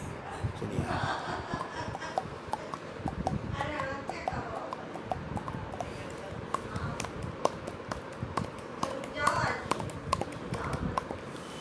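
A person imitates a single galloping horse with the voice and mouth, making rapid, rhythmic clopping beats that run continuously and loudly throughout.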